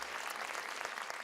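An audience applauds young performers at a musical fashion show, a dense, steady burst of many hands clapping heard briefly and loudly throughout.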